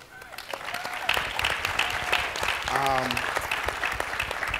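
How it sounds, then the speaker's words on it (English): An education summit audience applauds a young man, a dense burst of clapping that swells after the first second and holds steady, with a brief voice or cheer rising through the middle. "So give this young man a round of applause."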